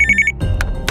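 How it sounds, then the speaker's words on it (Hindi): A telephone sitting on a table gives a quick electronic ringing trill, a short burst of repeated tones followed by brief clicks, close and clear with no talk. "तभी अचानक टेबल पर रखे फोन की घंटी बजी।"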